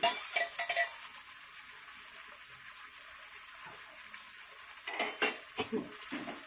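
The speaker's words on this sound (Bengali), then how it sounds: "মাথাটা দিয়ে একটু কষাবো।" Katla fish head stirred in a hot pan, with intermittent scraping and clinking of a utensil against metal in bursts at the start and end, separated by a quieter low sizzle.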